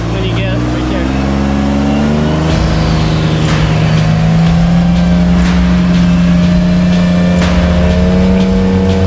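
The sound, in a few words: rock crawling buggy engine revving on gas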